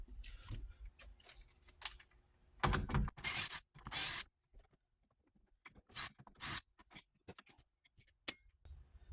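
Two 8mm bolts being loosened and removed from a Ford F-series truck door panel during window regulator replacement, heard as close ratcheting clicks, metallic ticks and a few louder scraping bursts, with no talking.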